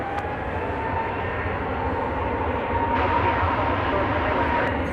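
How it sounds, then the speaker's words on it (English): Jet planes take off at DFW Airport as a continuous loud engine roar that swells slightly midway, heard alone without talking. "we still do have some planes taking off"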